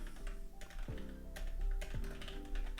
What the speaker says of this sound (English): It's weird typing on a keyboard when I'm usually on my laptop